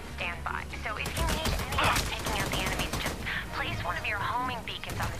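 Rapid bursts of gunfire from the video game Army of Two crackle in quick succession throughout, moderately loud, under a player's excited talking.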